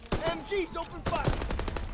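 Machine guns fire in the Call of Duty WWII battle, a rapid burst of shots alongside shouted talk, busy and fairly distant under the voices.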